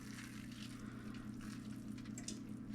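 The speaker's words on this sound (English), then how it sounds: "you're just going to take your hot caramel and be very careful, and you're just going to pour it over top" Hot caramel poured over a tray of crackers, a soft, thick trickling and pattering flow, close and faint, over a steady low hum.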